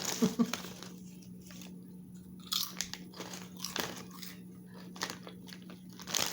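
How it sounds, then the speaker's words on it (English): Someone wearing dentures bites and chews potato chips, giving irregular crisp crunches and crackles over a faint steady hum, close and fairly quiet. "Potato chips."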